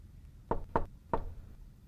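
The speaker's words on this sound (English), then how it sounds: "Mr. Cream heard a quiet little knock at the front door" Three quiet knocks on a front door, evenly spaced and close by, with no other sound around them.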